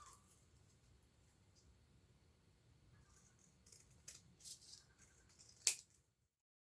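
Scissors trimming a thick book page for a journal: quiet rustling, then several crisp snips close up near the end, followed by silence.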